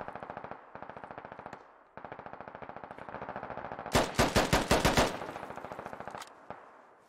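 Automatic fire from a Bulldog armored vehicle in the Squad military game, rapid machine-gun bursts in several strings, then heavier, louder booming shots in quick succession, with distant-sounding echoes and no voices.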